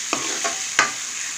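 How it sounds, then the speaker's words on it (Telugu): Fish curry liquid hitting a frying pan of hot oil, with a few sharp sizzling bursts and stirring scrapes, close and fairly loud, for a tamarind fish pulusu. "ఇప్పుడు ఇందులో చేపల పులుసుని వేస్తాను"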